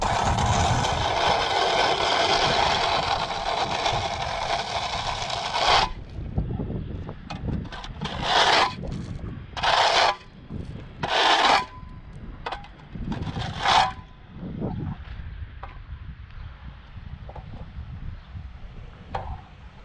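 Debris is scraped off a road surface during rotator tow work. A loud continuous rush gives way to several separate rough scraping strokes outdoors, then it fades to quieter ambient noise.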